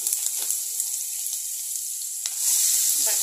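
Onion frying in hot oil with mustard seeds and turmeric for a spicy sprouted moth bean curry, giving a steady close sizzle that swells louder toward the end, with faint stirring taps.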